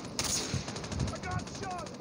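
Automatic gunfire in Call of Duty Mobile, a fast run of sharp, closely spaced shots at moderate loudness, with game voice lines over the top.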